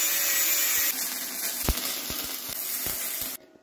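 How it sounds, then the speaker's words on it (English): An angle grinder works down the inside corner of a steel Coastal Offroad front bumper for a third-generation Toyota 4Runner, giving a steady, close, hissing abrasive rasp with a few sharp ticks before it cuts off abruptly near the end. "this corner that meets this corner, the inside corner, I'm just going to grind down a little bit"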